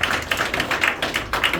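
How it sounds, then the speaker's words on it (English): Audience applause for three volunteer helpers at a live magic show at House of Cards in Nashville, a steady wash of many hands clapping, fairly close and continuous throughout. "a round of applause for our 3 helpers"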